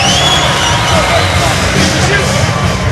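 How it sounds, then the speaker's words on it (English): Loud roaring crowd at a mixed martial arts event after the first-round buzzer, a dense continuous wash of cheering and shouting, with commentary heard over it. "The crowd is going crazy."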